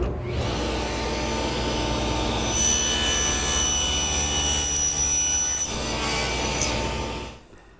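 A table saw with a tenon jig makes a cheek cut on a desk tenon: a sustained loud whine as the blade spins, a sharper cutting tone through the middle of the pass, then the sound winding down at the end.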